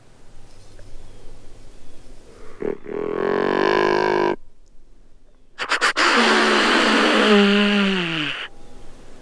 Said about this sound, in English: Start out with a grunt call